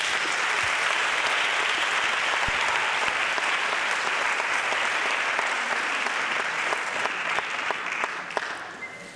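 An audience at a Navarra campus show event applauds steadily throughout, a dense, loud sustained clapping that thins slightly toward the end.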